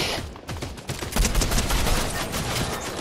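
Rapid bursts of gunfire from a Fortnite match fill the scene, dense volleys of shots rattling close and loud with little pause, no voices.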